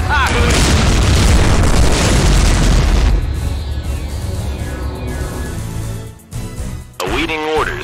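A heavy explosion booms as an enemy ship is destroyed in Imperium Galactica 2, loud and rumbling for a few seconds, then trailing into a quieter decay with brief game voice lines near the end.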